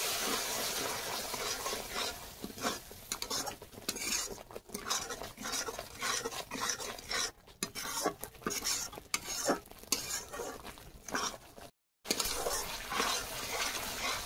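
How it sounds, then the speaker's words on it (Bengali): Frying masala for a spicy prawn curry sizzles and crackles in a pan as a little water is added, with steady stirring and scraping of a utensil against the pot throughout, close and continuous, no voices. "খুব সামান্য জল দিচ্ছি।"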